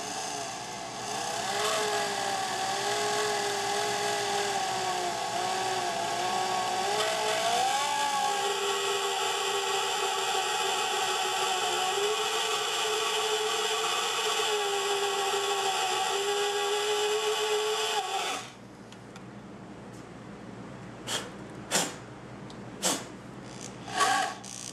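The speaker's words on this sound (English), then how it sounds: "Now I'll go ahead and start trying to drill." A power drill whines steadily into the metal of a Nissan 240SX KA24DE cylinder head for a long stretch, pitch wavering slightly under load, then stops, followed by a few sharp clicks and taps.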